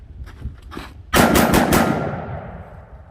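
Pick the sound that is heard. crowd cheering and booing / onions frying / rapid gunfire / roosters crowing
rapid gunfire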